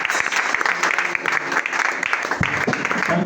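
A church congregation claps and cheers together during a prayer service, a dense, steady burst of applause with crowd noise running throughout.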